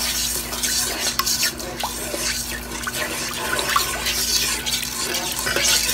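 A pot of sugar syrup for shahi jorda is stirred steadily, with close liquid swishing and light clinks of the utensil against the pot, no voices.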